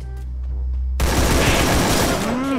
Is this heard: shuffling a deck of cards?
no